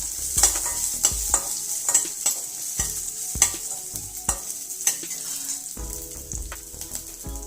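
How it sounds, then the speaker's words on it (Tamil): Curry leaves and green chili sautéing in hot oil for a village-style tomato rasam, a steady close sizzle broken by repeated spatula scrapes and taps against the pan, with no talking. "போதும், லைட்டாக ஒன்று எண்ணெயில் வதக்குனா போதுங்க"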